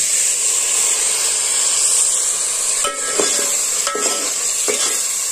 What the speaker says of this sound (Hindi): चिकन जो है वो डाल दिया है।